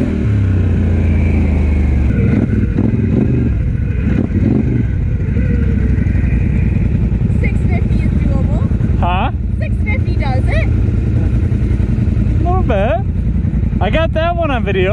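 A motorcycle engine roars loudly and continuously during a benefit group ride, with the rumble rising and falling as it revs, while people talk and shout over it throughout.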